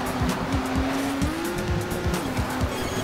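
In the Trackmania Turbo video game, a car brakes hard: a sustained engine whine wavers in pitch over a low rumble, with gritty tire-skid noise running continuously and no voices.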